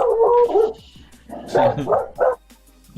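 A dog barks and yips in a few short, loud bursts close by, with brief pauses between them.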